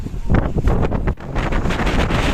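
Strong gusting wind buffets the microphone atop Mullayanagiri, Karnataka's highest peak at about 6300 ft, a loud continuous roar with rough surges and one brief lull, heard alone.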